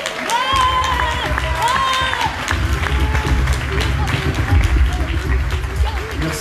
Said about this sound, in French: Je vous prie, s'il vous plaît, d'applaudir Stéphane Le Rouge